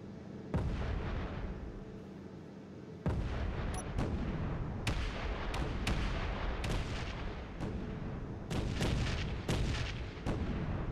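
Turret weapons fire in the Space Engineers game as a run of sharp, booming shots, about ten heavy blasts at uneven intervals over a constant low rumble.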